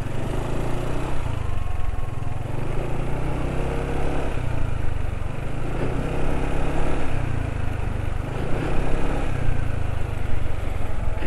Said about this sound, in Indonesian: Ini pemakaian 40 km, suara mesin masih halus.